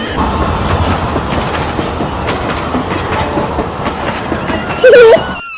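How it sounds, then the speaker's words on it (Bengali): A train passes close by with a loud, steady rumble and rhythmic clickety-clack of wheels on rails, a brief metallic wheel squeal near the end, no talking. "ট্রেন আসছে ট্রেন দেখবা?"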